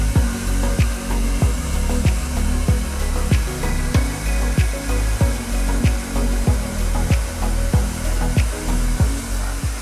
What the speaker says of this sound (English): now it's time to blow dry.